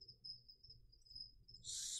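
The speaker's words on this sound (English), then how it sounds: "Oh, those crickets are killing me, guys." Crickets chirp in a faint, steady high-pitched trill that runs continuously in the background, ending in a brief soft hiss, with no one speaking.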